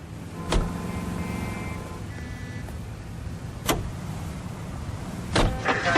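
Car in the LA Noire video game, with a low, steady engine drone and tonal whine running throughout and a few sharp clicks or thumps punctuating it.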